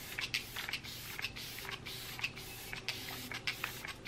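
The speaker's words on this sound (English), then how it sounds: "I'm gonna take my glow water, spray my face." Facial glow water misted onto the face in quick repeated spritzes, short bursts of hissing spray in an irregular series, close and fairly quiet.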